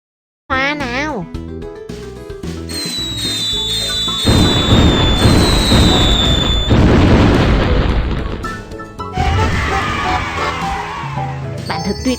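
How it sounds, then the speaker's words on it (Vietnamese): Fireworks launch in a children's cartoon game, with rising whistles followed by bursts and booms over a bright, busy backdrop of game sounds, loud and close throughout. "Hãy bắn pháo"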